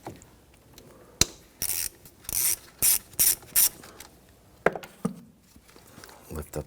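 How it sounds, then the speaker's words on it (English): A ratchet wrench with a 10mm socket loosens a car battery terminal on a 2011-2015 Kia Sorento 2.4L, giving several loud, close bursts of rapid clicking with metallic knocks between them. "Use your 10mm socket."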